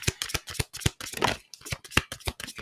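A deck of tarot cards being shuffled by hand, giving a steady run of crisp papery snaps and riffles in quick bursts, close and moderately loud, with no talking.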